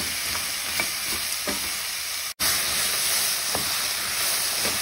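Potatoes, leek, carrots and parsnip fry in a pan for a chunky vegetable soup, giving a steady bright sizzle with faint crackles throughout, broken by one very brief dropout midway.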